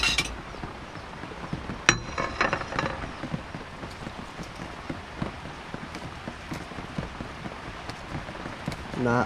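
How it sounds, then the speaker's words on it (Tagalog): Rain pattering on a surface, a dense steady patter with scattered sharper drops and a few clinks of kitchen pots and utensils nearby. "Na ulan na naman."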